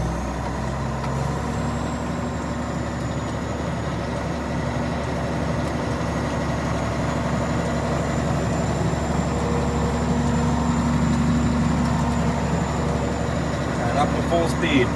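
A Case 2870 tractor engine runs steadily at low RPM for the whole stretch, a loud, even diesel rumble with a constant droning hum and no clear gaps or changes in pace.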